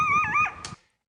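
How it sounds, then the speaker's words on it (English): A single coyote yips nearby: one clear, high, whining call that swoops up and down in pitch, then a brief sharper note before it cuts off into silence. "That, of course, was the yip of a coyote."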